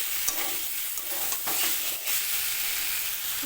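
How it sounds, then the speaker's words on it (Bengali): Fried potatoes are stirred into a kochur loti curry in a pan, with a steady, soft sizzle and gentle scraping stirs repeating through the short stretch. "দিয়ে দিলাম ভেজে রাখা আলু সব কিছু ভালো করে মিশিয়ে নিচ্ছি"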